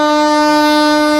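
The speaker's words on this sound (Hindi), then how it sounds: "12167 बनारस सुपरफास्ट ओवरटेक करने आ रहा है वहाँ से।" A steady, loud horn tone with strong harmonics, held unbroken, fitting the 12167 Banaras Superfast Express overtaking on the line near Manda Road loop during an Indian Railways journey.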